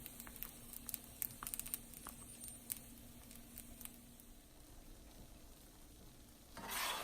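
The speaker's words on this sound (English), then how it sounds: "as they're cooking, I like to turn and twist and move them around to make sure that they're cooking evenly and they're not sticking to the pan" Scallion pancakes fry in a pan, giving a faint, steady sizzle with soft scraping and shuffling as they are turned and moved, briefly louder near the end.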